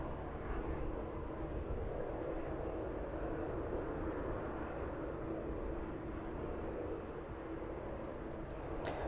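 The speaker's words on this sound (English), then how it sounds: "The DHL 767 off to Cincinnati this evening. That one is in the process of pushing back." A DHL Boeing 767 being pushed back off its stand at an airport in the evening, a steady, fairly distant low engine and ground-equipment rumble that holds evenly throughout.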